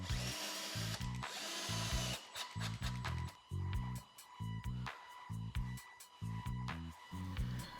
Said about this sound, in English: I mark the exact place to screw in the lathe faceplate.